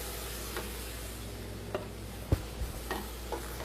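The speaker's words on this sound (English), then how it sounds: "And now we just stir this mixture and keep everything going for about another 10 minutes or so." Garlic and chopped fresh tomato with its juice being stirred in a pan, a low steady simmer broken by a few soft scrapes and knocks of the spoon, with no talking.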